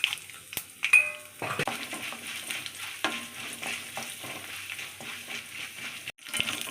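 Dried chilies and asafoetida tempering in hot oil in a pan, a loud continuous sizzle with a sharp crackle at the start and stirring scrapes, briefly cut off near the end.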